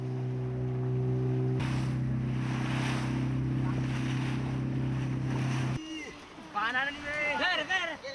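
A motorboat engine drones steadily at sea off a whaling village in Lamalera, Indonesia, with wind and water noise around it; the engine cuts off abruptly and a voice speaks over the remaining ambience.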